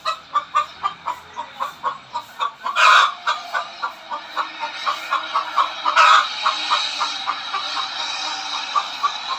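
Chickens cluck rapidly and rhythmically close by, with a rooster crowing loudly twice amid the steady clucking.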